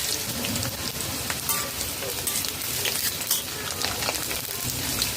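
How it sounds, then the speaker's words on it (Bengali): Dry red chillies and whole garam masala fry in hot mustard oil in a kadai, giving a dense, steady, close sizzle and crackle throughout with no pauses. No one speaks. "কড়াইতে ভাজা সর্ষের তেল রয়েছে শুকনো লঙ্কা দুটি দিয়ে দেব গোটা গরম মশলা দিয়ে দেব"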